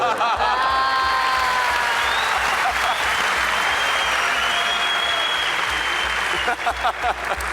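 Audience at a Turkish televised talent-show round gives a magician's act loud, dense, sustained applause that fills the whole stretch, thinning into a few separate claps near the end.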